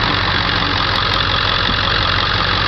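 A 2000 Ford F350 XLT with a 7.3 liter Powerstroke turbo diesel V8 idles close by, a loud, even diesel clatter with a low rhythmic throb and no talking.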